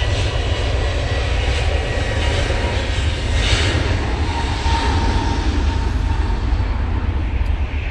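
An easyJet Airbus A321neo jet airliner rolls down the runway on its takeoff run at Manchester Airport on a windy day, with a loud, steady engine roar that rumbles on throughout.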